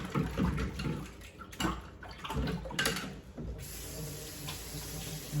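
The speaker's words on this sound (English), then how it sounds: "Let me wash my hands." Tap water runs steadily from a faucet as hands are washed, a continuous close splash with some brief louder gushes and a faint voice in the background.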